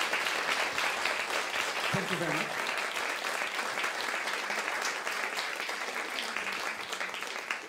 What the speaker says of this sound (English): first a very warm applause to our panelists